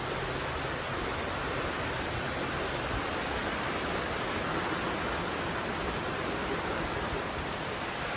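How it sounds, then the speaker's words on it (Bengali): Heavy rain pours down steadily and loudly in a rural village setting, a dense unbroken hiss that fills the whole stretch with no voices over it. "প্রচণ্ড হারে বৃষ্টি নেমে গেছে আমাদের এখানে"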